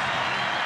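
Rugby league crowd applauding and cheering goal kicker Halligan at a 1998 Canterbury Bulldogs versus Canberra Raiders match, a brief steady wash of distant clapping and crowd noise.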